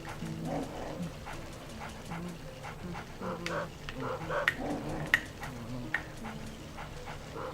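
A dog in the backyard of Luigi's Mansion barks, yips and whimpers repeatedly at moderate volume amid game sound effects.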